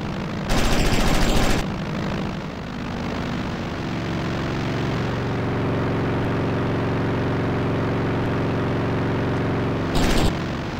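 A plane's engine drones loudly and steadily in a video game, with a sustained propeller hum that shifts pitch partway through and brief louder bursts of noise near the start and end.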